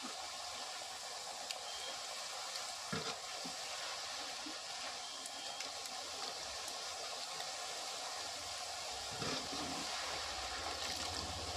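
Raw jackfruit slices fry in very hot coconut oil with a faint, even crackling hiss throughout, broken by a few soft knocks and bubbling bursts, heard from close by without speech.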